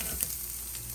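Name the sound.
garlic frying in pan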